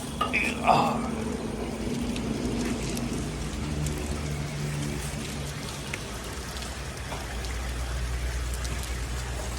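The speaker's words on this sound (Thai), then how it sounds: "ฝนตกแรงจริงๆเลย" Heavy rain pours steadily in the background outside a car showroom, a dense constant hiss with a brief clatter near the start.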